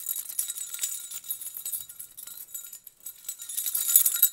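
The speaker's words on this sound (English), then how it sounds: "Now, let me demonstrate with DPA's approved keys." A bunch of keys jangles behind a DPA podium microphone, producing faint metallic clinks and rattles that come and go irregularly, thin and quiet, with no voices.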